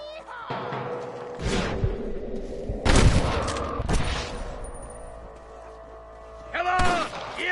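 Repeated gunfire in the Western video game Red Dead Redemption, sharp shots and bursts crackling close and loud, with a heavy volley near the middle and another cluster near the end, under a busy background.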